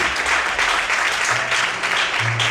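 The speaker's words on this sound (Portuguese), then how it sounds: "Aplauda o Senhor bem forte" A church congregation applauds loudly and steadily, a dense wash of many hands clapping close by, with no voices over it.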